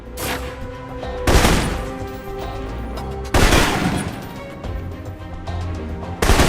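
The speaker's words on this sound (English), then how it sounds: "For long-range encounters, the assault rifle's the key. It's accurate, powerful." Assault rifle gunfire in the video game Alpha Protocol comes as loud, sharp bursts of rapid shots separated by short gaps, over a steady game ambience.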